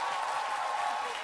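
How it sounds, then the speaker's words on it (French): A short burst of dense, steady clapping from an audience, continuous and fairly loud throughout. "Je voudrais qu'on puisse l'applaudir encore une fois."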